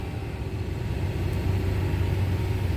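A John Deere 7930 tractor's engine runs at about 1900 RPM as it eases off the clutch and starts to move, giving a steady, fairly loud low rumble with no voices.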